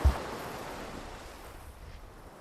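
Ocean waves wash against a tropical island shore with a steady broad rush that slowly eases, a brief low thump at the start, and wind hiss over everything.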